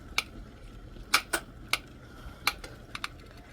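A knife cuts up small garden tomatoes on a board, a series of sharp, close chopping taps, some in quick pairs, spaced irregularly over a quiet background.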